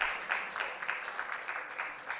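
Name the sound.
audience clapping at a congress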